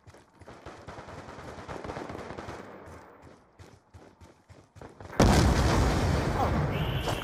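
Black Ops 2 free-for-all gunfire crackles in rapid automatic bursts at moderate volume, then erupts into much louder, denser continuous firing partway through.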